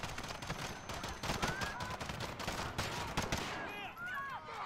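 Sustained automatic gunfire from a full magazine in Call of Duty: Modern Warfare, dense rapid bursts running throughout over game noise and shouting voices.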